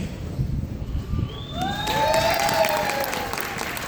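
An audience applauds awardees at a military infantry graduation ceremony, a broad wash of clapping that swells and holds steady, with faint cheering and whistles rising partway through.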